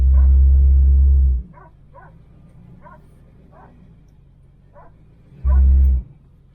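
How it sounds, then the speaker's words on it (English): A puppy lets out about six short, high yaps in a quick irregular series, bracketed by the loud low rumble of a car engine, a Chevelle, revving at the start and again near the end. "Puppy barking."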